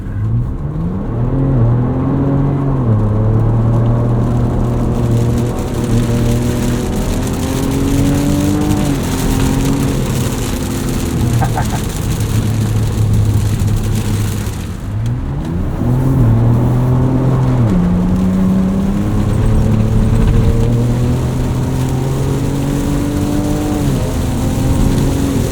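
A 2024 Ford Ranger Raptor on skinny, tall 34-inch Yokohama Geolandar M/T tires pulls away on dirt, its engine climbing through several gears in repeated rising sweeps, loud and steady from the cabin with tire and road rumble beneath.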